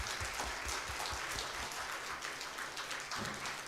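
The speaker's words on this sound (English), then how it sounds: "please put your hands together for a loud applause" Conference audience at an international concrete innovations event in Hyderabad applauding, a dense, steady wash of many hands clapping at once, fairly distant and even in level throughout.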